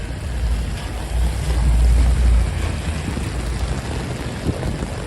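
Heavy rain and flooding water on a New York City street make a loud, dense, continuous roar, with deep rumbling wind buffeting on the microphone. No one speaks.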